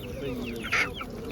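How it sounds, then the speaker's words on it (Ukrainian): A 10-month-old hen gives a short, sharp cluck close by amid softer murmuring chicken sounds at an animal market. "Це 10-місячна курка."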